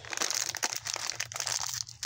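A 500 gram plastic bag of peanuts being torn open, with close, continuous crinkling and crunching of the plastic and no talking.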